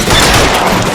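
Loud, dense gunfire fills a shootout in the crime game L.A. Noire, a continuous close barrage of shots and booming impacts.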